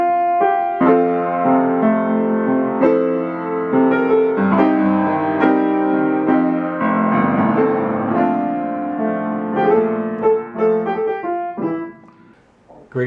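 Instrumental music plays a chord progression from a jazz standard, sustained harmonies with a melody woven through, steady and full for most of the clip before trailing off near the end.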